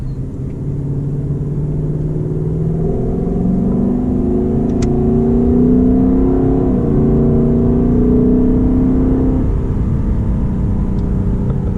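A Lexus LC500 V8 engine revving on the road, a loud continuous roar climbing and falling in pitch through shifts as the car accelerates, close and steady with no talking.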